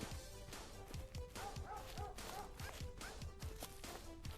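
A dog in a video game barking and yipping repeatedly in a steady rhythm, mixed with game audio and a bit of talk underneath.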